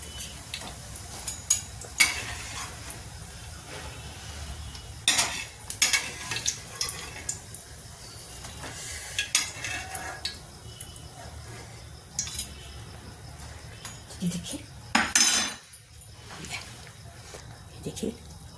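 Dahi vada fritters frying in hot oil on a low flame, lifted out with a slotted ladle: a steady soft sizzle with repeated sharp metallic scrapes and clinks of the ladle against the pan, and a voice speaking at times.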